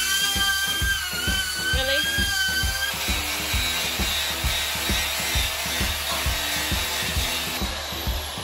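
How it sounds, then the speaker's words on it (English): An air-powered Dremel grinder screams continuously up close while grinding paint off a Jeep's metal before welding, with a steady high whine and rapid rhythmic chatter throughout. "getting his air Dremel hooked up"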